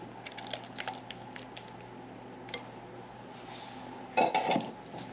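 Meatloaf ingredients are being worked into ground beef in a bowl, with faint clinks of a utensil against the bowl, soft squishing, and a louder scraping clatter near the end.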